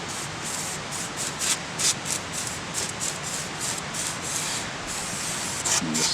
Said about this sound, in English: this stuff's actually doing a pretty good job blasting off that crud